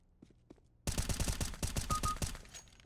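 Rapid burst of automatic gunfire in CS:GO, a dozen or so sharp, evenly spaced shots firing loud and close after a short quiet lead-in with a few faint clicks.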